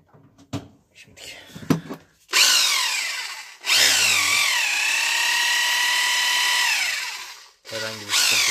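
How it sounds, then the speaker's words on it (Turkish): A Hilti hammer drill runs after its faulty power cable has been repaired, giving two long, loud whirring runs, the motor winding up and holding steady, with brief handling knocks and clicks around them and someone talking in between. "Bu arada matkap değil arkadaşlar, hilti, ama matkap görevi de yapıyor."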